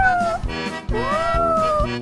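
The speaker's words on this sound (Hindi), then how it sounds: "चिंकी, देखो ये बिल्ली का बच्चा कितना प्यारा है।" A kitten meows twice in quick succession, each cry a rising-then-falling wavering call, close and fairly loud against a soft background.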